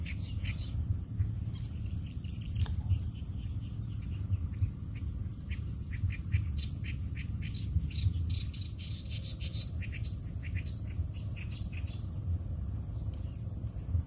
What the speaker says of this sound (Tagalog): Ang daming ibon, ang ibon kaya yun.